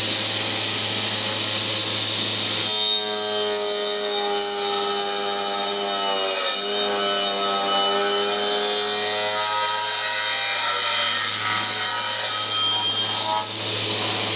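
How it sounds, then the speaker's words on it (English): A circular saw spins up loudly and cuts a tenon in an oak plank, its sustained whining hum running steady and close for over ten seconds with no talk. "So now I can turn it on and we can cut the first side."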